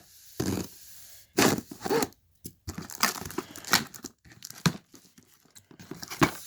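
Close-up crinkling and snipping with scissors in short bursts with pauses, plastic and cardboard rustling as a package containing a Bissell vacuum is cut open.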